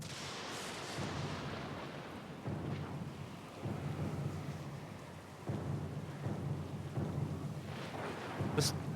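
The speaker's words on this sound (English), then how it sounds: "The storm's getting pretty loud." Thunderstorm with rain in the fantasy video game Pillars of Eternity II: Deadfire, heavy rumbling thunder rolls in several waves over a steady wash of rain, with a sharper crack near the end.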